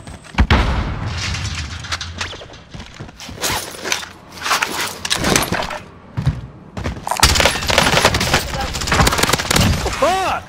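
Gunfire and explosions in Call of Duty Warzone, with loud bursts of shots, booms and impacts scattered throughout, mixed with voices talking over the action.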